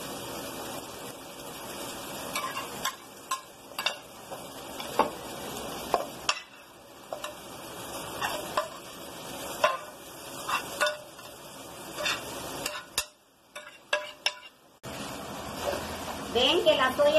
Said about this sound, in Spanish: ¿Ven que la soya ya se está friendo bien?